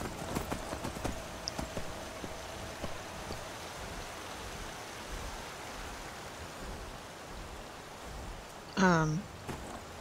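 Horse hooves clop faintly in the Skyrim video game, soft irregular steps under a rain-like ambient hiss, with a brief voice rising near the end.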